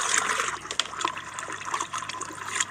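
Water being poured out in a steady, splashing trickle with small gurgles, fairly close and continuous for a few seconds.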